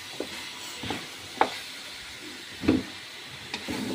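Chicken tinola with fish sauce being stirred in a pot, with a few separate scraping knocks of the spoon over a soft background simmer, close and moderately loud.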